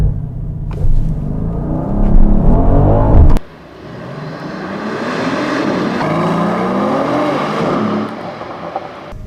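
A 2020 Mercedes-AMG GLE 53 launches hard in a drag race: a loud roaring engine burst for about three seconds cuts sharply to a quieter, steady rumble and whir of acceleration that holds and builds slightly until the end.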